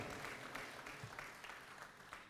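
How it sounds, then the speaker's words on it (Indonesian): Applause for the Democratic Party's advisory board at an Indonesian party leadership announcement, a steady, dense clapping from a large indoor audience throughout. "Tepuk tangan sekali lagi untuk Dewan Pertimbangan Partai Demokrat"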